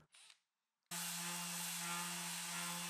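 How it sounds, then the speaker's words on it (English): A spade bit bores into a wooden workbench to make space for bolt heads: a brief faint scrape, a pause, then a loud, steady, high-pitched whining drill grind that runs to the end without talk. "then forward to drill out to create space for the head of the bolts"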